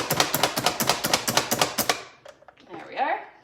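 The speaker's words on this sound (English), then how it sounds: "we're gonna take our food chopper" A food chopper dicing cubed vegetables for broccoli cheddar soup, about a dozen rapid sharp chops in a fast even rhythm, close and loud, then a brief quieter stretch with a voice speaking.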